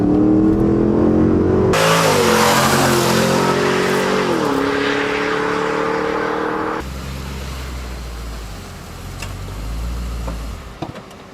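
A loud car engine revs hard and accelerates, pitch climbing, then the roar drops away abruptly, leaving lower rumbling and a brief clatter.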